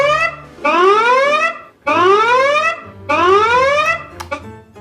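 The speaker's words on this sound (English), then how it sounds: "And it's a zombie alarm." Homemade zombie alarm, push-button and plugged in, blaring three loud rising electronic siren sweeps of about a second each, separated by short gaps, with a brief clatter at the end.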